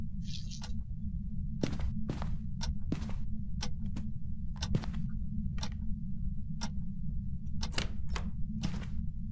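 Sharp knocks and thuds, door-like, sound one after another at irregular intervals over a steady low rumble in a Phasmophobia ghost-hunting session, with a short high chirp near the start.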